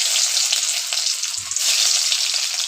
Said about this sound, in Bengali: কড়াইয়ে তেল দেওয়া হয়ে গেছে। এবার একটু জিরা দিয়ে দিলাম, তারপরে আমি রসুনটা দিয়ে দিব।